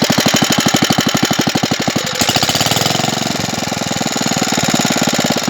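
A Bernard W19A stationary engine runs after an ignition overhaul, thumping in a fast, loud, regular rhythm close by with a clattering mechanical texture that steadies after a brief hitch.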